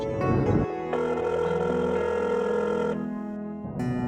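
A telephone rings in an indoor drama scene with a steady melodic electronic ringtone, sustained for a few seconds with no voices over it.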